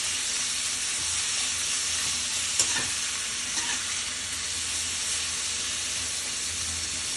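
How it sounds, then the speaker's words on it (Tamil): Onions sauté with a little salt in a hot pan for a channa masala, sizzling in a loud, steady hiss close by, with a brief clink of stirring partway through and no talking. "ஸோ வெங்காயம் கொஞ்சம் சீக்கிரமாக வதங்கும்."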